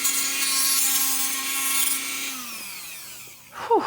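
A rotary tool grinding away plastic bracing in a Mitsubishi Evolution center console being fitted to a first-generation Toyota Tacoma gives a steady high whine that winds down, followed by brief scraping, close and alone.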